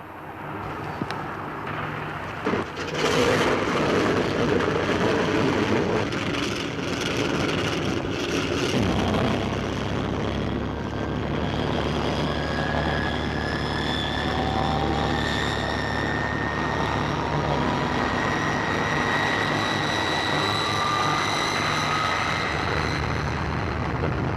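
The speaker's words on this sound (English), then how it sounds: "We're about to take off now." An airliner taking off, heard from inside the cabin: a loud, steady engine roar that builds and holds, with rising tonal whines over a constant rumble.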